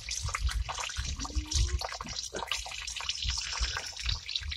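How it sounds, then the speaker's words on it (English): Hot water pours steadily from a tap onto a worker in a cramped job space, a continuous splashing, trickling wash heard up close with brief murmurs of talk underneath. "he's running hot water on me."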